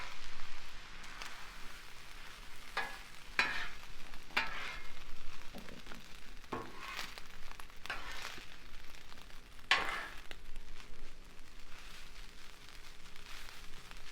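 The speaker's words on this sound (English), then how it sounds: "I think I'm just going to add a little bit more soy sauce. And then I'm just going to stir it in real good." Fried rice with soy sauce being stirred on a Blackstone griddle: steady sizzle with a handful of sharp spatula scrapes and clanks spread across the stretch, no talking.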